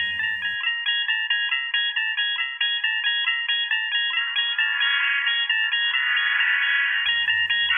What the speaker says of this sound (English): she assigned a unique ringtone to me, and it's the Twilight Zone theme